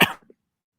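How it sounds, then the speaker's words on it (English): A man gives a single short, harsh cough close to the microphone, followed by a faint throaty catch before silence. "Got a bit of a cough."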